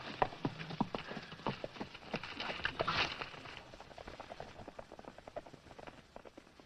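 Rapid, uneven clip-clopping of several horses' hooves in a cowboy film, moderately close, trotting along and gradually fading a little toward the end.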